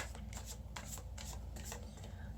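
New tarot cards are being shuffled in quick, soft riffling bursts close to the mic, a steady papery flutter with no voices.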